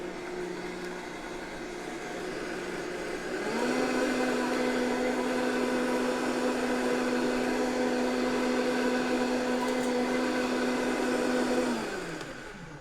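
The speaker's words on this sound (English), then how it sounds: "So in your blender, let's get everything rocking and rolling." A blender whirs through tahini salad dressing with a little water for a kale salad, a steady motor hum that rises in pitch and volume once the jar gets going, then winds down.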